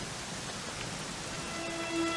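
Steady rain falling in the video game Dragon Quest XI, a continuous even hiss of rainfall with faint soft tones toward the end, no voices.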